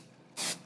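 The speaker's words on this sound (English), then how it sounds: "I almost sprayed too much there" A single short burst of Apple Garde protector aerosol spray onto Louis Vuitton vachetta leather, a sharp close hiss lasting a fraction of a second against quiet background.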